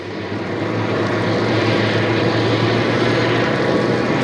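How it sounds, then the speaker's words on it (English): Airbus A380 jet engines spooling up at JFK airport, a steady, loud broadband roar with a low droning hum that builds slightly and holds throughout, no voices over it. "You can hear an A380 over there starting up."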